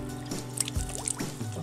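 Ice-cold spring water splashes and drips in short, close bursts as hands scoop it onto a face outdoors in a Chilean forest.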